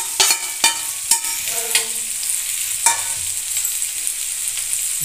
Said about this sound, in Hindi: इस सभी चीज़ों को डाल के अच्छे से भून लेंगे।